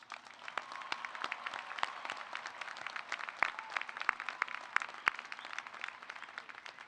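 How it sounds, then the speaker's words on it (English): Scattered clapping from graduates' families and friends at a university engineering and computer science commencement, a steady patter of individual claps of moderate loudness with no talking. "let's celebrate your families and friends with a very big round of applause"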